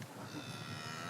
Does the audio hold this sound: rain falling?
no